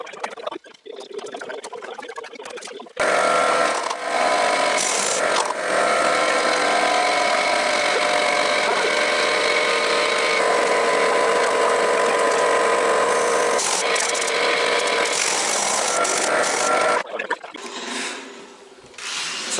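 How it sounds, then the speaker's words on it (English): A power saw cuts a piece of trim to fit during work on an early-2000s off-road vehicle, its harsh, steady whine running nonstop for about fourteen seconds between quieter shop noise. "So he's cutting it to fit."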